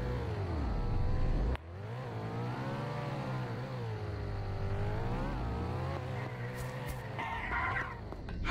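Car in the Roblox game Emergency Hamburg driving in reverse: a steady, close engine drone with rising and falling pitch sweeps as it revs and shifts, continuous throughout without any talk.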